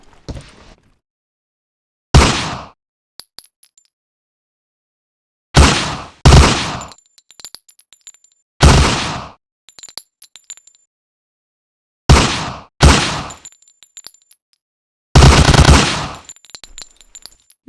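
Browning Automatic Rifle fire from the Hidden & Dangerous 2 training mission comes in five loud, close bursts of rapid automatic shots, separated by short silences, with faint metallic clinks after some bursts.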